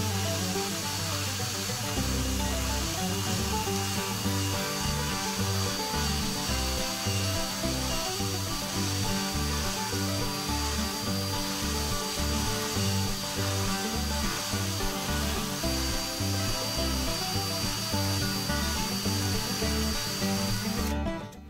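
Continuous close abrasive sanding of a classic car part, a steady rhythmic rasp of sandpaper strokes with a motorized tool hum running throughout, loud and unbroken with no talk.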